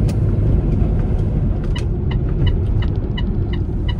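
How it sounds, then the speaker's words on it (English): A bus turn indicator ticks steadily in a regular repeating rhythm, fairly faint over the constant loud rumble of the bus engine and road noise inside the vehicle. "There is the most annoying indicator sound in the world."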